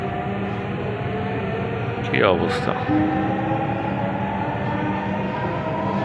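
A Dhaka metro rail train runs near Shahbag toward Motijheel, giving a steady humming rumble with tonal whine, while a voice speaks briefly over it.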